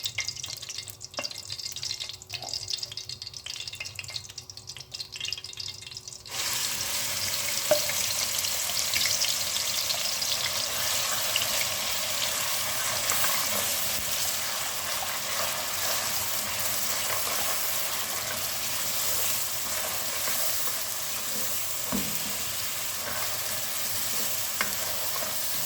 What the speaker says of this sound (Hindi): इसको आप 1-2 मिनट के लिए अच्छे से भून लें